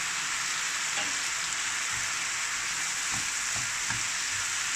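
Chopped capsicum sizzles in a hot pan with ketchup while it cooks down for a chicken bread filling, a steady close hiss of frying broken by a few soft stirring clicks.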